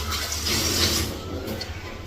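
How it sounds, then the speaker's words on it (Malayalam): Running tap water splashes steadily over a pressure cooker being washed in a home kitchen sink, a close, continuous gush for about two seconds. "ഈ കുക്കറ് കഴുകി."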